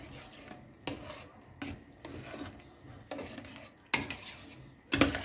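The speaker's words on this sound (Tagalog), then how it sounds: "Haluin na lang natin." A spoon stirs rice in a metal cooking pot, giving repeated scraping and rasping strokes with sharper knocks at an irregular rhythm. The sound is quiet and close, with no talking.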